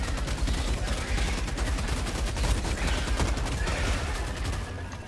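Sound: heavy machine gun firing in Helldivers 2 video game

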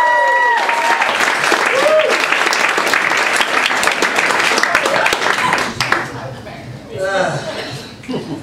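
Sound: audience applauding a comedian

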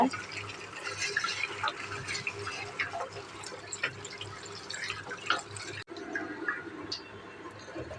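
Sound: water washing cut taro leaves

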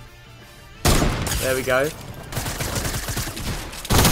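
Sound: shotgun shots fired in a video game

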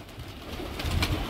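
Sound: pigeons cooing

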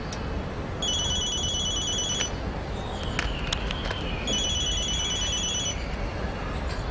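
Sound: telephone ringing

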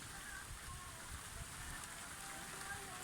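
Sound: heavy rain

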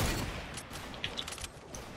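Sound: sniper gunshots in Fortnite video game

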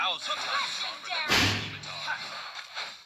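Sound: door slamming in the background

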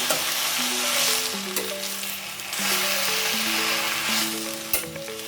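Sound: frying and stirring kirak sali greens in a pan

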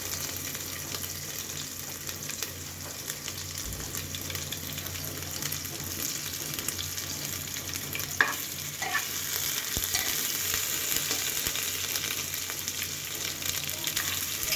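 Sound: ginger garlic paste frying in a pan

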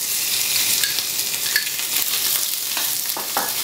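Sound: veal kidneys searing in a very hot buttered pan

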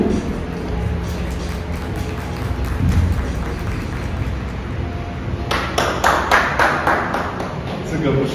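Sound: clapping in praise of a dance performance

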